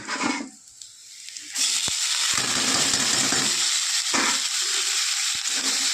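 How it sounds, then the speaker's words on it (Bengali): Young radish greens fry with onion in a pan, giving a steady close sizzle with a few scraping stirs and clinks after a quieter opening. "পেঁয়াজটা আবার শাকের সঙ্গে ভাজা হবে"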